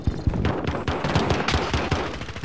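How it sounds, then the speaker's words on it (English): Rapid automatic gunfire from a Call of Duty: Modern Warfare firefight, dense bursts of close shots cracking in quick succession with scattered impacts, loud and continuous throughout. "definitely getting shot at"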